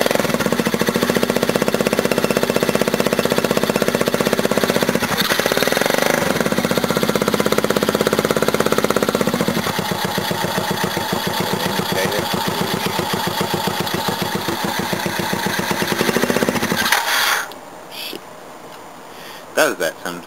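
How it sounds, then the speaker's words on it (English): A mini bike engine with a straight pipe and no muffler runs loud and close, a harsh rapid popping idle for most of the stretch, then cuts out abruptly, leaving quieter background. "Just a straight pipe, no muffler. Now, one more go. Just let it warm up a bit before I rev it."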